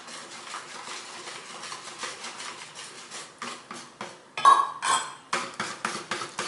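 Bika ambon batter is stirred in a bowl with a utensil, producing a run of quick scraping clinks and taps against the bowl's side that grow louder midway, close up, with no talking.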